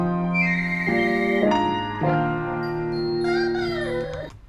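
Soul sample pitched up four semitones on an ASR-10 sampler: layered sustained chords and a bright lead melody that shift in steps, played alone at steady loudness and ending with a gliding, wavering tone.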